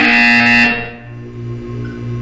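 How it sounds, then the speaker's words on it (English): A harsh electronic buzzer from the video game Portal 2 blares loudly for under a second and cuts off, leaving a low electrical hum ringing afterward. "You will hear a buzzer"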